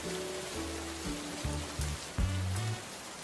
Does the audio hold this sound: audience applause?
no